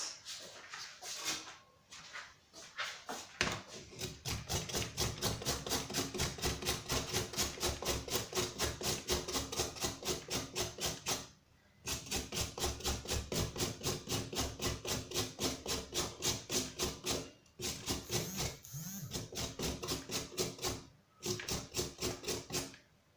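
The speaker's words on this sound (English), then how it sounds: "Go in with the carrot. This one I'm going to grate." A carrot is grated for an avocado and tuna salad, making a steady, rapid rasping rhythm of close strokes that runs almost continuously, broken by a few short pauses, with no talking.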